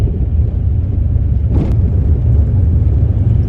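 Car engine rumbling steadily at low revs during a driving lesson, held at a light throttle as the car creeps along, a continuous low drone with a brief soft hiss partway through.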